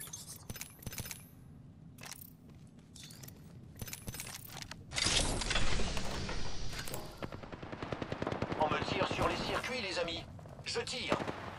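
Gunfire in Apex Legends: rapid bursts of shots and mechanical clatter, growing into a loud sustained volley partway through, with a voice talking over parts of it.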